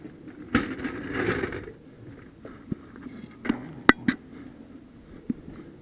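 A ratchet works on rear coil spring suspension hardware on a Toyota Sienna, producing short clicking and rattling bursts with a few sharper metallic knocks, close and moderately quiet, irregularly spaced.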